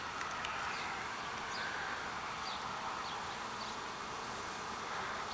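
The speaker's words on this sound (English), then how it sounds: "That's bound to be just field bees coming back." Field bees buzz faintly outdoors near a tree, a continuous low hum with individual insects droning past now and then over a soft background hiss.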